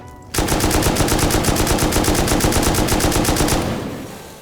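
Rapid automatic gunfire from the game Rust, a long unbroken burst of loud, evenly spaced shots lasting about three seconds before cutting off, with no talk over it.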